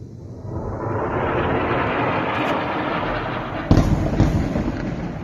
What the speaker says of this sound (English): Here's a video of the airstrike.